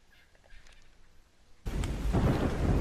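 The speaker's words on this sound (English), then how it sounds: "when it rains, it thunders, especially on this map" Thunder during a rainstorm in ARK: quiet patter at first, then a sudden loud rumbling crash that swells and rolls on to the end.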